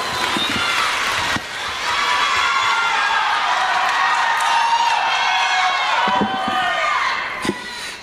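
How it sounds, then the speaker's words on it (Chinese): Live audience at a Deyunshe crosstalk comedy show in Beijing applauds and cheers loudly and continuously, a dense wash of clapping with scattered shouts, fading slightly near the end. "感谢各位的热情掌声啊"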